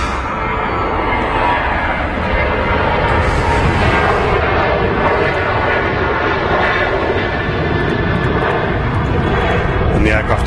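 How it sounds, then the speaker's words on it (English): A Ryanair jet departs Manchester Airport for Bordeaux, its engines a loud, continuous roar that stays close and powerful from start to finish. "the aircraft departing is a Ryanair flight to Bordeaux"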